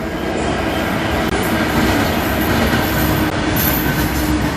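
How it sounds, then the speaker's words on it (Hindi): A freight train rolls past on a railway line toward Punjab, making a loud, continuous roar of wheels and rumbling cars with occasional squeals throughout. "मालगाड़ी देखिए जा रही है ये पंजाब की तरफ"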